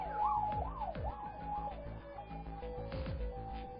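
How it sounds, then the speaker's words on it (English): A video game police car siren wails up and down in a continuous cycling pattern before shifting to a steadier two-tone sound, moderately loud and uninterrupted. "That was a police car."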